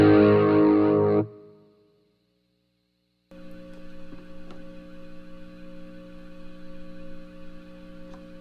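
Electric guitar through a Peavey Rage 258 practice amp with effects: a loud distorted chord rings and cuts off, then after a pause a steady hum with a faint sustained tone lingers, no voices.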